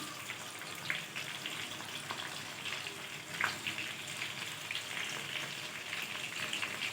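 Prawns frying in a pan and being turned over, a continuous soft hiss and crackle of hot oil with a couple of brief scraping touches as the pieces are flipped, fairly quiet and steady.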